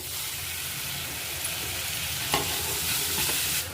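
Tomatoes fry with onions in hot oil for a capsicum masala curry, with a loud, continuous sizzle, broken once or twice by a brief stirring scrape.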